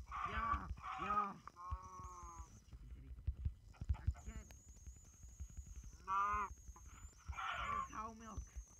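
Minecraft cows moo repeatedly in short lowing calls, several in a row, with game sounds around them and a player talking between the moos.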